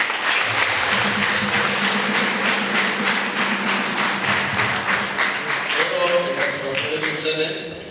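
A church congregation claps together in a dense, sustained round of applause with rhythmic clapping, loud and close, with voices mixed in under it.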